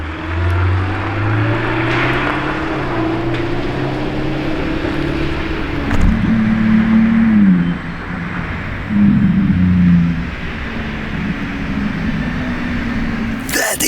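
A Lamborghini Revuelto passing with a loud, droning engine tone that rises and falls in pitch, steady throughout with a couple of brief surges as it moves by.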